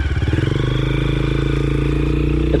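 Honda CRF230F dirt bike running on a trail, its single-cylinder engine giving a steady, close, loud thumping drone that holds an even pitch throughout.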